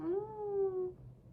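A voice imitates a cat's meow, a single drawn-out rising and falling mew, close and fairly quiet, about a second long with no other talk.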